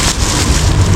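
Steady rain falls outdoors without a break, a dense, even hiss with a low rumble beneath, close and fairly loud throughout.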